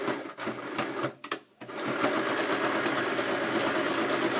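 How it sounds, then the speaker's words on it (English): Sewing machine stitching the sides of a paper pocket layout, a brief stop-start buzz at first, then a steady rapid whirring run that continues loud and close to the end. "I'm going to sew my sides to reinforce them"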